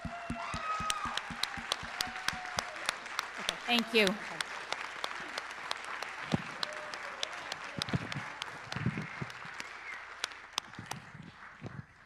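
Applause at a community event, scattered sharp claps that build and then fade, with crowd murmur and a brief spoken thanks.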